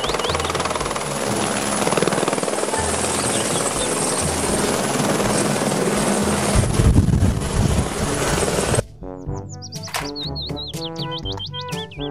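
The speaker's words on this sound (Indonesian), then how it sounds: "Helikopter." A toy-style helicopter flies past with a loud, continuous whirring rotor drone, then gives way to cartoonish bird chirps and tweets.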